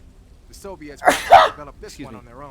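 A person sneezes once, a short sharp burst in the middle of continuous conversational speech.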